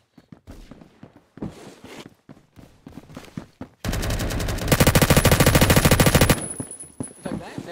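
An LMG in Roblox Phantom Forces fires a long continuous burst of rapid rattling shots, loud and close, preceded by scattered footsteps and shuffling.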